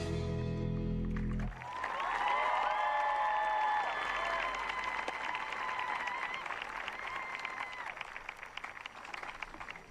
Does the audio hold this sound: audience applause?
yes